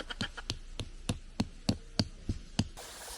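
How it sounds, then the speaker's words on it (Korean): A tent peg is hammered into the ground at a 600 m mountain farm campsite: about ten sharp, close metal-on-peg strikes in a steady, slightly uneven rhythm, with nothing else but faint background. "안 들어가네. 박아야겠다."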